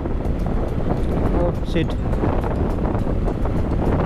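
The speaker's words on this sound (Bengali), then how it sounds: "আর হাওয়া দিচ্ছে, প্রচণ্ড হাওয়া দিচ্ছে আজ, বাইকে হাওয়া লাগছে খুব" Strong wind roars continuously across the microphone of a moving motorbike on an open road through fields, a loud, steady buffeting rush, with a man's brief exclamation heard over it.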